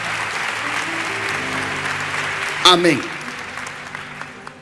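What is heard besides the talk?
congregation applause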